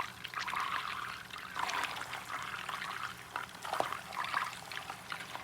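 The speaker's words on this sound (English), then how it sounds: "So I'm going to drop all of the lobster in." Lobster pieces dropping into a pot of hot melted butter for lobster congee, giving a steady sizzling bubbling with soft splashes and trickling liquid throughout.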